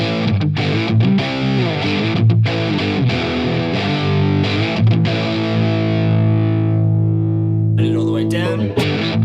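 Heavily distorted electric guitar riffs through an Ibanez Soundtank CM-5 Classic Metal pedal, with choppy muted chugs, then a long ringing chord fading out before a brief noisy scrape, loud and close.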